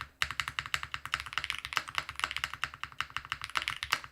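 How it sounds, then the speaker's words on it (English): Rapid, steady clacking of keys on a DK1-TKL mechanical keyboard with a copper bottom, close and crisp, with a continuous typing rhythm and no voices. "But the moment we start typing on it,"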